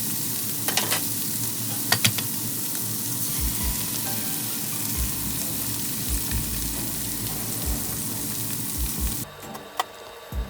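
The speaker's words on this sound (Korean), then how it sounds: "삼겹살 굽는 소리가 좋아서 노래를 꺼보았어요" Pork belly sizzles steadily in a hot frying pan, a constant crackling hiss with a few scraping stirs, close up and without voices.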